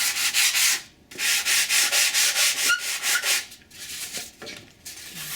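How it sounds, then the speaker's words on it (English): Fine-grit sandpaper rubs the edge of a foam model wing in quick, even back-and-forth strokes, a close rhythmic rasp that pauses briefly and then continues more softly. "Using my finer grit, I just gently sand it."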